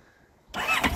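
A CFMOTO 700 MT motorcycle engine cranks and catches on its first start, bursting suddenly from near silence into a loud, close, rising idle partway through the brief moment.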